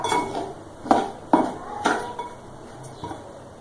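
A spoon scrapes and clinks against a cooking pan while stirring coconut and melting sugar for apple barfi. There are several distinct metallic knocks at irregular intervals, fairly close, with no voices.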